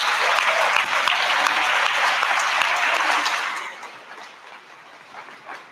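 Applause from an audience for student Elijah Luberstadt at a senior awards ceremony, a loud sustained clapping that fades after about three and a half seconds into softer scattered claps.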